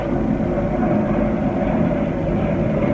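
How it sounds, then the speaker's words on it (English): Low-flying military airplanes pass over a house, a loud, steady, low rumbling roar filling the whole stretch without a break. "Sorry, the planes are flying like really, really low over my house."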